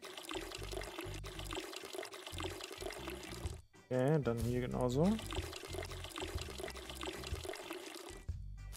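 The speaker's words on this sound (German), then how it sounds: "wir müssen hier wieder gießen." Water pours in the video game Weed Shop 2 as plants are watered, a short gurgling pour rising in pitch in the middle, surrounded by soft game ambience and someone talking.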